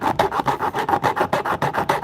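A hand file rasps rhythmically across the teeth of a newer chainsaw chain, about a dozen evenly spaced strokes in quick succession, close and clear with no talking.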